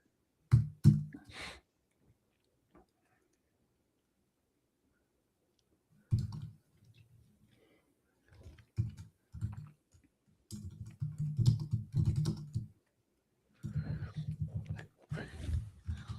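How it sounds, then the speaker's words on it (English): Typing on a computer keyboard comes in scattered bursts of soft, quick clicks separated by stretches of near silence, close and faint, with no talking. "we usually don't have as much silence with Brent typing as we go through"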